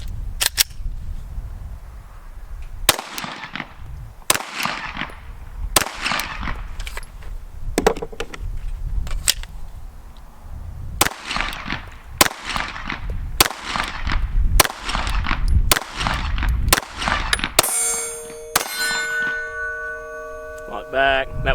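A Glock 17 pistol fires shot after shot at the range, a dozen or so sharp loud cracks in quick uneven succession, with ringing metallic clinks of the magazine being handled near the end.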